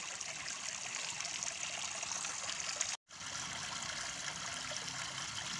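Water trickles and streams steadily from a homemade water fountain, a soft continuous flow that cuts out for a moment midway and then resumes.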